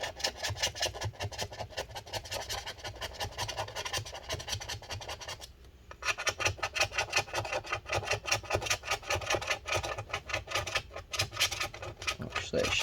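Old battery adhesive is scraped off the case of a 2012 15-inch Retina MacBook Pro A1398: close, continuous rasping strokes in a quick repeating rhythm, pausing briefly midway before resuming.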